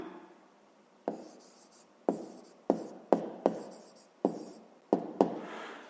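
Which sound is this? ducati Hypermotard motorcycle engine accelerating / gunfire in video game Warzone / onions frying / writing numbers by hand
writing numbers by hand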